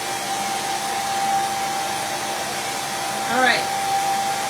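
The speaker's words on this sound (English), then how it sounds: "I don't want to go too long with the blow dryer because it tends to melt the Vaseline." A blow dryer blowing steadily to dry paint on pumpkins, a constant close whooshing hum with a faint tonal whine. A voice speaks briefly near the end over it.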